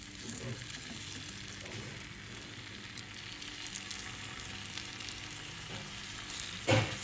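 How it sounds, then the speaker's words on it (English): Raw prawns placed into melted butter in a pan over a low-to-medium flame for garlic prawns, giving a steady, moderate sizzle throughout with a brief louder clatter near the end. "Now the butter has melted, so we are going to place the prawns."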